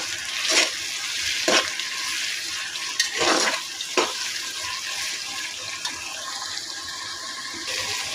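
Tomato pieces soften in a hot pan, a continuous sizzle broken by several sharp bursts of stirring and spatula scrapes at irregular intervals, no talking.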